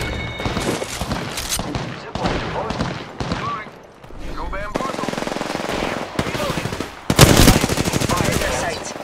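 Automatic and rapid gunfire in the battle royale game Apex Legends, with repeated bursts of shots that grow loudest and densest near the end, amid game sound effects.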